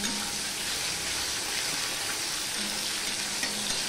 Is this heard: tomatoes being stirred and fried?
yes